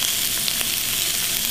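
Garlic sizzles steadily in a hot pan alongside carrots and celery, a dense, even crackle that holds close and loud throughout the short stretch with no voices over it.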